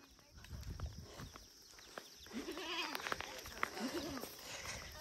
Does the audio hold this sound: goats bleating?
yes